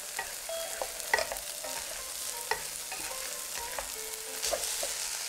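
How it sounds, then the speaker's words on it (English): Green onions being stirred through ginger egg fried rice in a hot pan, a steady soft sizzle broken by several sharp utensil scrapes and taps against the pan, with no one talking. "Stir the green onions around for about a minute."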